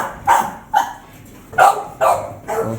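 Dogs at home, including an American Bully and a French Bulldog, bark loudly and close by in five sharp barks spaced in two quick pairs and a final bark.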